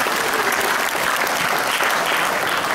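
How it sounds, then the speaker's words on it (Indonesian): Steady applause from an indoor audience at a university alumni appreciation event, dense continuous clapping that fills the space evenly with no voices over it. "Kita berikan aplaus kepada mereka."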